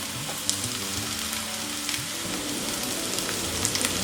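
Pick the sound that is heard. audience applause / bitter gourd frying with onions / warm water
bitter gourd frying with onions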